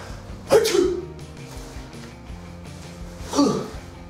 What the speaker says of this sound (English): But first I need to sneeze.